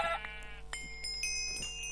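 Sheep bleat in the Minecraft video game, a few short bleats heard over steady game music with sustained tones, all at an even moderate level and no talking.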